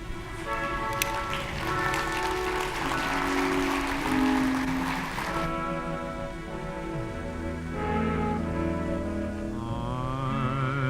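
Audience applause after a presentation at a Texas medical center gathering: a dense, steady wash of clapping lasting several seconds before giving way to music.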